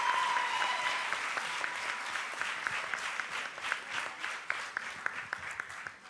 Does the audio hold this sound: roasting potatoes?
no